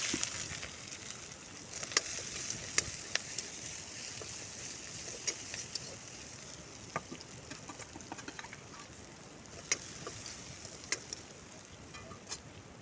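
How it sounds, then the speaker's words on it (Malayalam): Chopped onion, garlic, green chili and ginger fry in a pan for a village-style chicken curry, a faint, continuous crackling sizzle with scattered small pops throughout. "അതിനുശേഷം നമുക്ക് അരിഞ്ഞു വെച്ചിട്ടുള്ള സവാള വെളുത്തുള്ളി പച്ചമുളക് ഇഞ്ചി എന്നിവ ചേർത്ത് കൊടുക്കാം"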